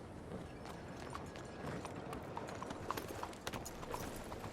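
Horse hooves galloping in the Red Dead Redemption 2 video game, a quick rhythmic run of clip-clop hoofbeats at moderate distance, fairly quiet and steady throughout with no talk over it.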